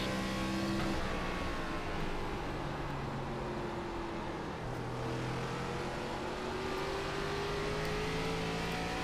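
An ARCA stock car engine in the iRacing simulator drones steadily at high revs, pitch rising and falling gently as the car is driven around a track, a continuous loud engine note with no talk.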